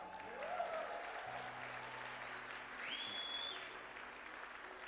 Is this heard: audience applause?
yes